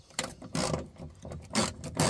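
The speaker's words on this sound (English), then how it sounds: "Now I'm going to take my last bolt out at the top." Ratchet wrench loosening the top bolt of a window regulator on a 2009–2014 Genesis sedan, several bursts of quick clicking with short pauses between strokes, close and fairly loud.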